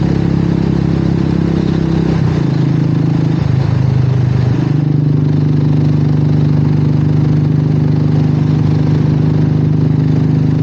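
A Royal Enfield 350 motorcycle, geared with a larger front sprocket and smaller rear sprocket, thrums loudly and steadily at low RPM while riding, with a constant close engine drone and a slight dip in pitch partway through.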